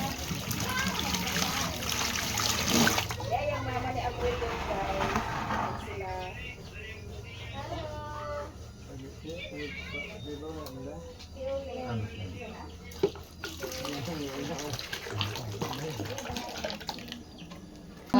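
Tap water runs into a container while dishwashing soap is mixed, a steady splashing stream that is strongest at the start and end and sits under ongoing talk.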